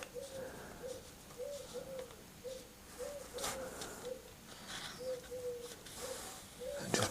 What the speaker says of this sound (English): Excuse the noise of the pigeons, they always are out making noise in the mornings